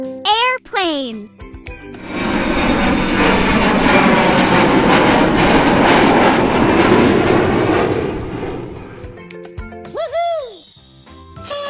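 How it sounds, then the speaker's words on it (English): Airplane engine drone from a vehicle puzzle game, a loud steady roar swelling in and fading out over several seconds, framed by short chiming jingles before and after. "Airplane!"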